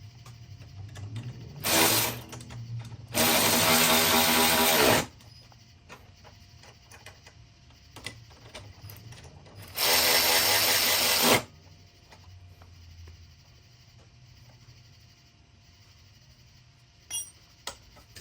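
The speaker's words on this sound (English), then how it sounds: "You just throw the bolt through, put the nut on, and tighten them down." Bolts and nuts being tightened by power tool on an XPRO 40cc bull bar during assembly: two loud, sustained bursts of whirring, each about two seconds, with a shorter burst before the first and faint clinks between.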